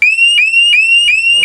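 A Scorpio motorcycle alarm sounds on a Yamaha MT-09 after the bike is shaken, giving loud, close, repeating electronic whoops, four evenly spaced sweeping tones with steady harmonics and no pauses between them.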